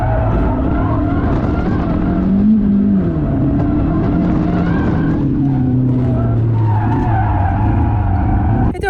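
Toyota MR2 AW11 with a 3SGTE engine swap driven hard on a race track, engine droning loudly throughout with rising and falling pitch as it shifts and corners, tire noise mixed in, no talking.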